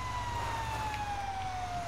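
A fire truck siren in a police-themed driving video game wails steadily with a slowly falling pitch, held loud and continuous over a low engine rumble throughout.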